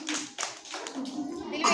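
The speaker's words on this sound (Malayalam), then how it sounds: "ക്ലാപ്പ് കൊടുക്കോൾക്ക്" A group of children claps during a classroom number game, a few loose, uneven bursts of hand claps with children's voices mixed in.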